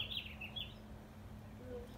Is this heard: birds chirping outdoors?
yes